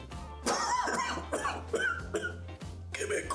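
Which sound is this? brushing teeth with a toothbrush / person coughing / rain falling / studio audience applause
person coughing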